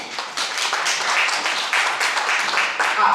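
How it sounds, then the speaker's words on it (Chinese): An audience applauds before a young performer plays at a recital, a close, bright patter of clapping that runs steadily for about three seconds. "好，我们给热烈掌声。"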